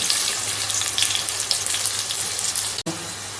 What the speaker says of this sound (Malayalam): ഉള്ളി ഇടുകയാണ് നൈസായിട്ട് അരിഞ്ഞ ഉള്ളി